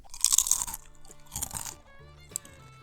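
Fatwood fire starter being crunched, two loud crisp bursts of crackling and splintering a second apart, followed by a smaller snap.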